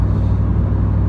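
A 1997 Camaro Z/28 with a 285 hp LT1 V8 and automatic transmission accelerates hard, giving a loud, steady, close engine rumble with deep low-end drone that holds throughout, with no talking.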